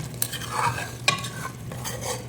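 Ginger garlic paste is stirred into a frying prawn gravy in a pan, with soft scraping strokes over a low sizzle, close and brief, with no talk.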